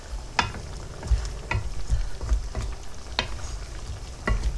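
Chicken cooking in its own juice in a pan is stirred, giving a steady soft sizzle broken by several distinct scraping and clinking strokes of the utensil, close and fairly quiet.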